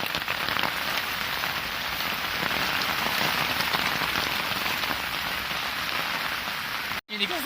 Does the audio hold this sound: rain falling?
yes